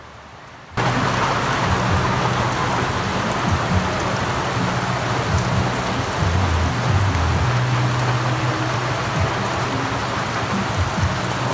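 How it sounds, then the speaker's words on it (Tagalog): Heavy rain pours steadily and loudly, a dense continuous hiss that starts suddenly and holds throughout, with low rumbling underneath. "Maulan."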